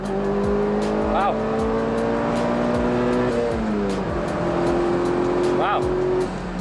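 A Mitsubishi Evo 9 fitted with a small turbo accelerates hard, its engine note climbing through the gears with brief dips at shifts, loud and close from inside the car.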